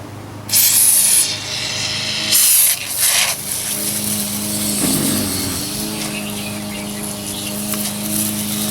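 Bursts of pressurized aerosol coil cleaner hiss loudly onto an air conditioner coil, then a steady hissing rush goes on against a low mechanical hum.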